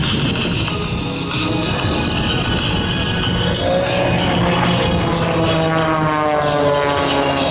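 Propeller aircraft flying in a three-ship formation at the Wings Over the Illawarra airshow, heard as a loud, continuous droning engine roar with slowly shifting pitch as the planes pass, with no talking.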